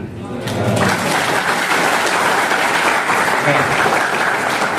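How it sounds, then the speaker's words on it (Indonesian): A large audience at a university engineering faculty orientation event in Indonesia breaks into steady, loud applause that holds for several seconds, with a brief voice at the start. "Tepuk tangan."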